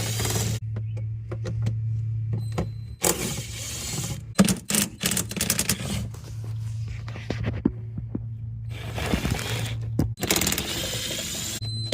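Ratchet wrench clicking in repeated bursts as bolts are loosened during radiator removal on a Chevrolet Express or GMC Savana van, close and loud, with metallic clanks and pauses between runs of rapid pawl clicks.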